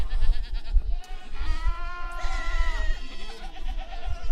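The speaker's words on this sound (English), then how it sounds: "When you have a goat pen full of goats like these ours" Goats in a goat pen bleat several times nearby, with one long wavering cry in the middle, over low rumbling background noise.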